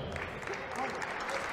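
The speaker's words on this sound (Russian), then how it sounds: "Под ваши аплодисменты мы начинаем суперсхватку сегодняшнего вечера" Brief applause from the crowd at a Brazilian jiu-jitsu super fight event, steady clapping heard under a reverberant announcer's voice.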